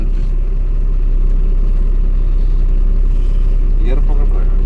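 A loud Tata Signa BS6 truck engine rumbles steadily, holding a deep idle throughout with little change in pitch; the truck has a pickup problem.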